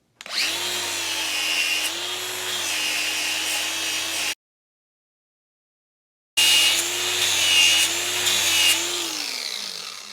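An angle grinder trimming a Boer goat's hoof whines steadily at close range in two bursts, the second trailing off as the motor spins down, with a silent gap between them.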